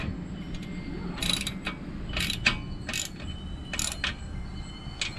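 Ratcheting and clicking of a part being tightened on a Haul-Master car dolly mover, several short sharp bursts of ratchet clicks at irregular intervals over a low background hum.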